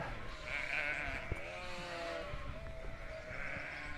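Sheep bleat faintly outdoors, a couple of drawn-out calls amid a low ambient rumble.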